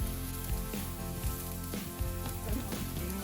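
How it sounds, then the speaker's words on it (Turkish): Onions and garlic sauté in a pan for beef udon noodles, a soft continuous sizzle with faint scraping under a steady background hum. "Devamında soğanları soteliyorum, sarımsak ekliyorum."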